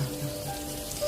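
Heavy stormy rain in a Hindi horror story, heard as a constant, fairly soft hiss of drops pattering on a surface, with no pauses or talk.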